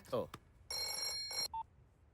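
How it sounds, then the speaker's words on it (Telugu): A telephone rings in a short electronic burst, briefly interrupted, following a quick spoken syllable. "ఫోన్ రింగ్ అవుతుందిరా"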